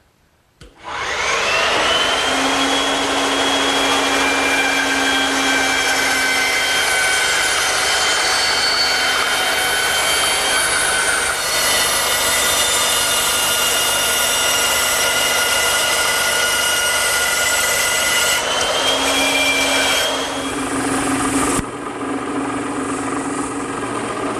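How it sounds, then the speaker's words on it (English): A router fitted with a 3/4-inch round-over bit shapes the wooden grips of garden cart handles. It screams at a loud, steady high pitch for about twenty seconds after a quick spin-up, then winds down to a lower hum. "a 3/4-inch round over bit set up in my router makes this step a lot easier"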